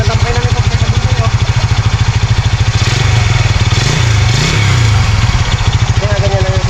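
A motorcycle engine runs steadily close by, a loud rhythmic putter with even firing pulses and a slight swell in revs near the middle; people talk over it.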